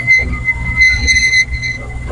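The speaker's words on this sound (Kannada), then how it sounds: "ನೋಡಿ ಗುರು, ಟ್ರೈನ್ ಜರ್ನಿ." A small heritage toy train rolls along the track at the Mysore railway museum, a loud close rumble of wheels with a high metallic squeal rising and fading.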